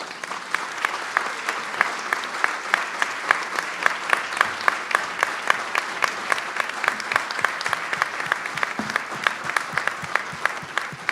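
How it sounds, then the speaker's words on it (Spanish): An audience applauds an engineer, Marcelo Sazón, at a workers' union gathering: steady, dense clapping from many hands held at an even level throughout, with no one speaking over it. "yo pido un aplauso"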